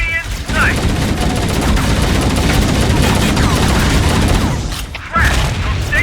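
Sustained, dense automatic gunfire from stationary gun turrets in Halo: Combat Evolved, loud and continuous with rapid overlapping shots, dipping briefly near the end before resuming.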